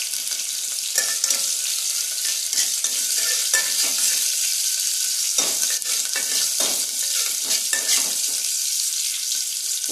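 Ajwain, cumin and black pepper frying in a pan, a dense continuous bright sizzle with scattered scraping and stirring knocks throughout, close and loud, with no talk.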